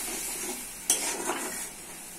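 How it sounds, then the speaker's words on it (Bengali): Masala of chilli, cumin, coriander powder and salt with a splash of water being stirred in a pan, for a jackfruit and potato dish; a soft steady sizzle with one sharp utensil scrape near the middle and light clinks after. "ভালো করে মশলাটা কষে নিতে হবে"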